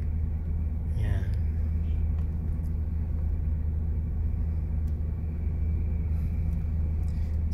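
Heavy road traffic on EDSA at Guadalupe, heard from inside a vehicle as a steady low rumble of engines and tyres, with a brief passing whine early on.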